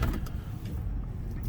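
A Ford Crown Victoria P71 on the move, heard from inside as a steady low engine and road rumble that holds even throughout, with no voices.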